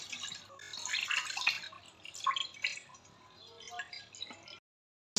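A kilo of milk pours steadily into a pan for a semolina milk pudding, a soft liquid splashing and trickling that stops abruptly near the end.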